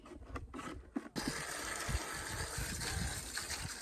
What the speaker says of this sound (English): give it a wash down with the water